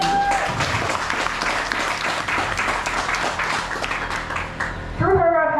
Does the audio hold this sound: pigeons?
no